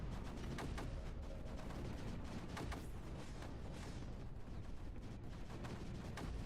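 Mortar and artillery fire in a strategy video game, a dense, continuous rumble of distant booms with repeated sharp blasts layered over one another, fairly quiet overall.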